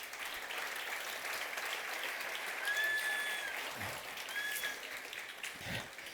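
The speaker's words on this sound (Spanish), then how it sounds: "Denle un aplauso al Señor." A church congregation applauds during a Spanish-language sermon, a soft, steady wash of many hands clapping that sounds distant and fairly quiet, with a faint tonal sweep passing above it.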